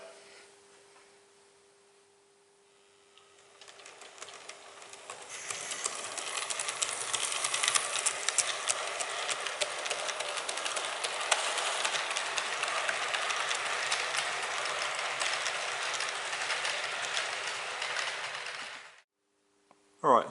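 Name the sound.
model railway locomotive running through level crossing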